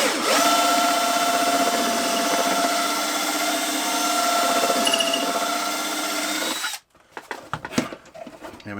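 A power drill spins a balsa boat prop shaft clamped in its chuck, a steady close whirring hum that runs for several seconds, then cuts off, leaving scattered clicks and handling noise.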